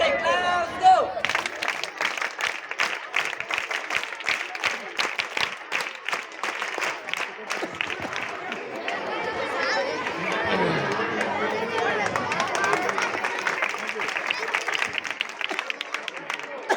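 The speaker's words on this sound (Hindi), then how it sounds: "ए जोरदार ताली मारबो ए ताली मारो" An audience at a stage event breaks into sustained clapping on request, dense and fairly close for most of the stretch, with a crowd murmuring and chattering underneath as the applause thins toward the end.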